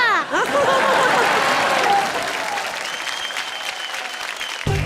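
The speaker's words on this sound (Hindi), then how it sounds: "तो जोरदार तालियों से स्वागत कीजिए" Studio audience clapping on a Hindi comedy show, a loud burst that swells early then settles into steady applause, with a voice briefly heard near the start and a cut at the end.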